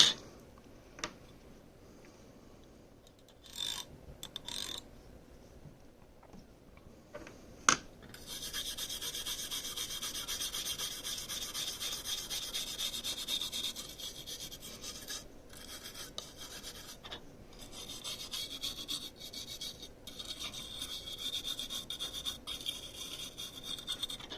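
Oxidized contacts of an NES game cartridge being rubbed clean, a few scattered clicks and taps, then a continuous dry rasping scrub for the rest of the stretch, close and fairly quiet with no talking.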